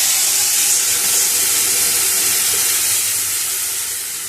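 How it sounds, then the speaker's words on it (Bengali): Tamarind water hits a hot pan of oil and five-spice seeds, releasing a loud continuous hiss of steam and spitting that slowly fades toward the end. "তেঁতুলের জলটা ঢেলে দেওয়া হবে।"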